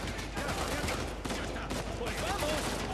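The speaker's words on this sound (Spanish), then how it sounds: "alejarse de los tiros es lo que intento" Gunfire from the video game Uncharted 4, a rapid fusillade of shots crackling over game ambience and music in a short burst.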